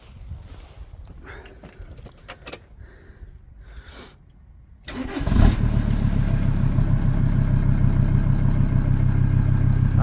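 A VW LT35 campervan engine fires up halfway through and runs at a steady, moderately loud idle through a newly fitted side exit exhaust, after a few seconds of faint clatter.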